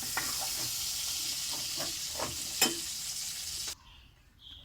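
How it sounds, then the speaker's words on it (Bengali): Cauliflower florets frying red in oil in a home kitchen, a steady close sizzle with scattered crackles and stirring scrapes that cuts off abruptly near the end, leaving faint hiss. "দেখো খুব সুন্দর লাল লাল করে ভাজা হয়ে গেছে কপি"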